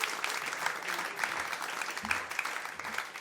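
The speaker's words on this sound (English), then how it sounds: "Can you guys give a big round of applause to Mark Watson, please?" Audience at a live comedy show at the Pleasance breaks into sustained, dense applause, steady and fairly loud throughout with no talking over it.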